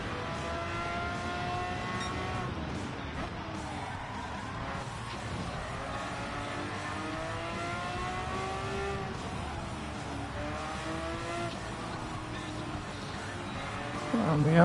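Race car engine in a PlayStation racing game at the Spa circuit during a license test: a loud, continuous engine drone whose pitch rises and falls through gear changes, ending in a sudden louder surge.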